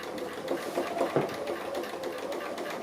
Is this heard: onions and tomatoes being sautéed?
no